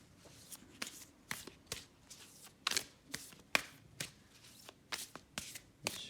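Oracle cards being shuffled for a reading, heard as a series of crisp, riffling bursts at an uneven rhythm, close and fairly quiet, with no speech over them.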